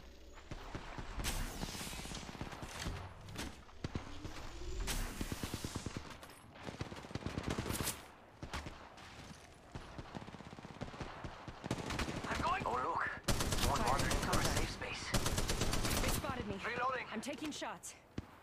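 Gunfire in the mobile battle royale game Apex Legends Mobile, dense bursts of automatic rifle fire and single shots in loud close volleys with short pauses, alongside game sound effects and voice callouts.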